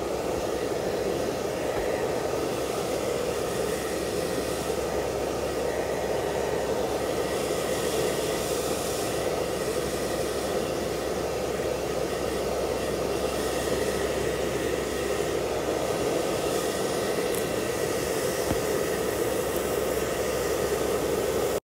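A hair blower bought from Shopee, about three years old, runs steadily while drying hair, giving a continuous loud broadband whoosh with no pauses and no voices.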